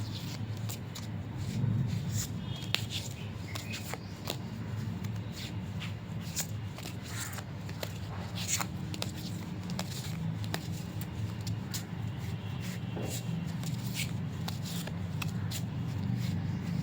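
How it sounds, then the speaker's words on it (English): A deck of timeline oracle cards is shuffled continuously at close range, producing steady soft riffling and flicking, with sharper snaps of the cards throughout. "So this is my timeline deck, and I'm going to be pulling out one card from this."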